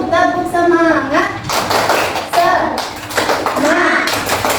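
A classroom of children performs a rhythmic spirit clap, with patterned bursts of claps and taps alternating with sung and chanted voices.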